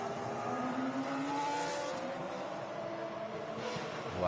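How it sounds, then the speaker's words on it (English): Historic race cars driving through the streets of Monaco past Casino Square under full course yellow, a continuous broad engine roar from a distance, steady rather than flat out, with no talk. "I just want to listen to these cars for a moment around the streets"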